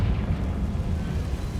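A Confringo fire spell bursts in Hogwarts Legacy, a loud, close, rumbling blast that holds steady through the whole moment.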